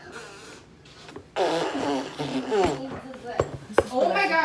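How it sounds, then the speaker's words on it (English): A fart sounds amid a noisy indoor scene, with a child and an adult talking and reacting close by. "Did you fart? Yeah, we did."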